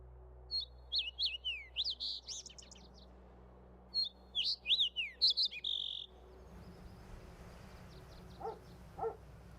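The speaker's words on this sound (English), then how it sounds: "there's birds chirping and then there's a fucking dog barking" Several birds chirp in quick bursts of high, sharp tweets, then a dog barks a couple of times in the distance as the chirping fades; no talking, a faint low hum underneath.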